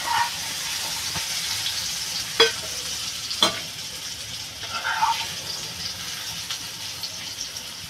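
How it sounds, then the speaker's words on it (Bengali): Steady frying sizzle of taro stolons in a pan with a few sharp scraping stirs of a spatula, close and moderately loud throughout. "এবার কচুরলতিটা এরকম লাল লাল করে ভেজে নেবো।"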